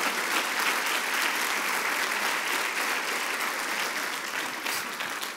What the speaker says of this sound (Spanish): Vamos a darle más fuerte ese aplauso al Señor